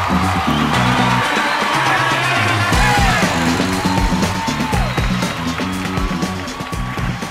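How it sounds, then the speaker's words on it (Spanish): Live comedy show audience applauding and cheering as a comedian is welcomed on stage, a steady dense wash of clapping with whoops over loud music, tapering slightly toward the end. "¡Fuerte el aplauso!"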